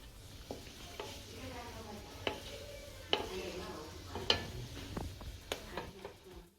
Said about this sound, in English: And they start crackling immediately. You can hear them sizzling.